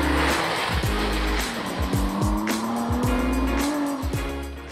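A Porsche 911 Turbo S Exclusive Series passes close by, its engine loud and rising and falling in pitch through gear changes, with a sharp tire squeal and a brief roar as it goes by.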